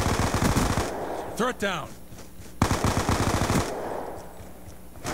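Rapid automatic gunfire bursts from a Call of Duty: Black Ops 2 match on PC, loud and close, broken by a short gap and a brief in-game voice callout before the shooting resumes.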